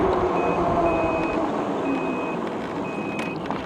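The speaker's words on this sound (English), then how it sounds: "Turn signals on." Repeated electronic beeping from a HappyRun G100 eBike's turn signal, a steady run of short tones over continuous road and motor rumble while riding.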